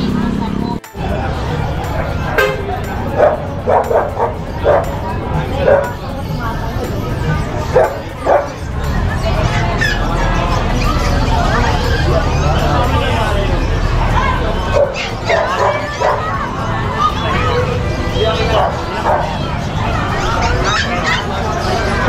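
Dogs at the Grotto pet market bark, yip and whimper repeatedly in short bursts, heard nearby over a steady crowd murmur and close conversation.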